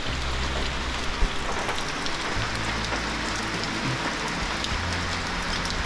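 Steady rain pours down outdoors at Dinadiawan, a dense, even hiss of drops on surfaces with a low rumble underneath, continuous and close.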